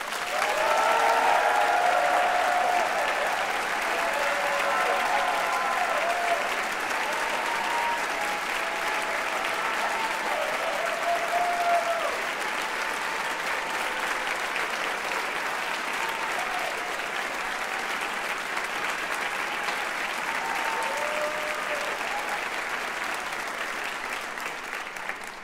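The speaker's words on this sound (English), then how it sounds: "let us take a moment to acknowledge and applaud Juilliard's extraordinary" At the 2018 Juilliard commencement ceremony, a large audience applauds teachers and staff with long, steady clapping that rolls on for nearly half a minute, slightly stronger at the start and easing toward the end.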